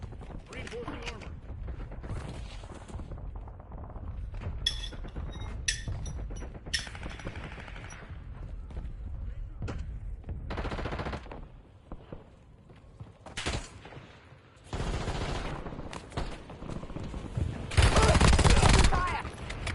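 Gunfire in Call of Duty Warzone Resurgence, bursts of automatic and single shots throughout, loudest near the end, with in-game voice callouts now and then.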